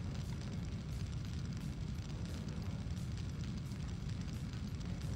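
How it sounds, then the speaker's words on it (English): Fire burning all around in a warehouse level of the Syphon Filter video game, a steady low roaring rumble with crackling texture, continuous and even throughout, fairly quiet with no voices. "it's just fire all around"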